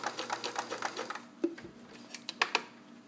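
An all-metal Kenmore 158.1941 free-arm sewing machine runs a slow straight stitch, giving a quiet, evenly spaced ticking that slows and breaks into a few sharper clicks near the end.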